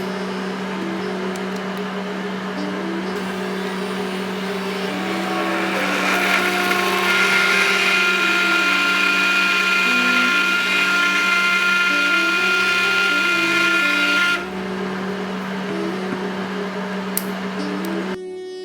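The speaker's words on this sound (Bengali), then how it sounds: "তারপর আমি এটাকে ব্লেন্ড করব" A kitchen blender purees a boiled oats and lentil soup, a steady loud motor whine with a brief lower start, then rising to a harder, brighter roar for several seconds before cutting off.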